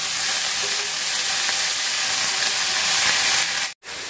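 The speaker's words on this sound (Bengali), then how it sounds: "তো এই যে শাক, রসুন আর মরিচ আমি ভাজা নিচ্ছি।" Ivy gourd leaves fry in hot oil with garlic and chili, making a dense, loud, continuous sizzle and hiss up close, cut off by a brief dropout near the end.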